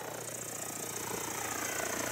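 Small remote-control helicopter flying during a piloting lesson, a steady buzzing rotor whir that holds at a fairly even, moderate level throughout, no talking.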